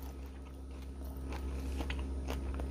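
Crispy air-fried French fries being bitten and chewed up close, with several sharp crunches in the second half over a steady low kitchen hum.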